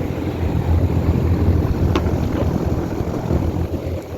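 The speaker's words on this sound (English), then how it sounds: "here's the Trane. Just fired up. It's got an Alliance scroll compressor." A 2008 Trane XB13 3-ton air conditioner with an Alliance scroll compressor and Gentech fan motor runs steadily outdoors, a loud continuous low rumble and whooshing fan noise with a faint click partway through.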